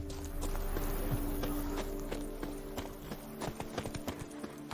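Horse hooves clip-clop steadily on hard ground in The Witcher 3: Blood and Wine, a quiet, even walking rhythm of repeated sharp knocks alone.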